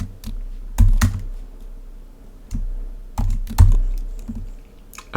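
Code being typed on a computer keyboard in short bursts of sharp, close key clicks separated by pauses, with no voices.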